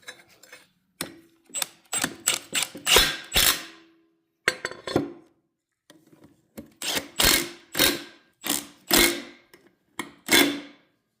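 A ratchet snugs a bolt on a Mazda FD RX-7 power steering tank in quick bursts of sharp clicking, several strokes in a row with short pauses between them, close and alone.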